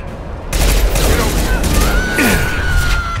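Rapid gunfire bursts in the video game Mass Effect 2, loud and continuous over a dense game soundscape, with other in-game tones and effects mixed in.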